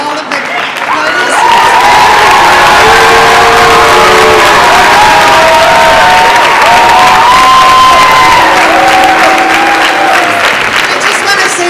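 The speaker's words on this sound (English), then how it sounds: "one more round of applause for all of the parties" A school auditorium audience at a high school mock election and senior debate bursts into loud sustained applause and cheering, with scattered whoops and shouts layered over the clapping throughout.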